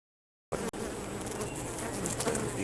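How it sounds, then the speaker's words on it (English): Bees buzz and fly close around a beehive, forming a dense, steady hum that begins abruptly after a short silence and continues close and fairly loud, with no talking. "some bees had to fly."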